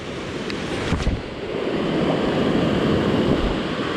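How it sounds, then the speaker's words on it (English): Ocean waves crash and wash steadily onto a sandy surf beach near a sandbar, a loud continuous roar with wind buffeting the microphone. "Found a nice pocket where the waves are crashing a lot closer than the surrounding beach."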